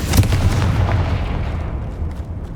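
Confringo blasting curse firing in the Hogwarts Legacy video game: a loud, sustained rumbling blast with crackling bursts up front that slowly fade, with no talking.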